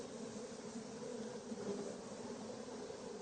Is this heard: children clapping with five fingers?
no